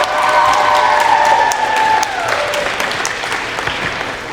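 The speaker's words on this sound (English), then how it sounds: "Please give her one last round of applause." Audience applause at a high school senior night ceremony, a steady dense clapping from a large crowd with some cheering, loud and sustained throughout before easing slightly near the end.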